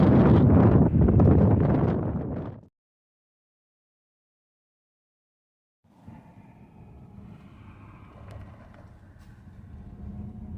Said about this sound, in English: Oh, the wind's back. Back in the desert, the wind's back.